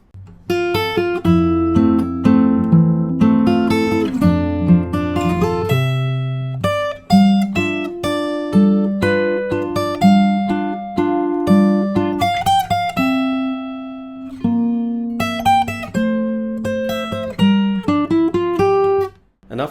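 Fingerstyle acoustic guitar plays a theme from Up, a steady flowing stream of plucked melody over bass notes with brief pauses between phrases, close, clear and unaccompanied.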